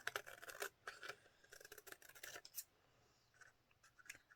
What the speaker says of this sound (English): So I'm just going to take my scissors and follow that line.